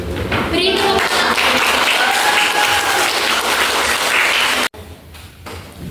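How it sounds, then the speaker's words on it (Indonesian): A hall full of students at an SMKN 2 school student council election demonstration applauds loudly and steadily for several seconds. The clapping cuts off sharply, and a quieter room tone with faint voices follows. "Beri tepuk tangan"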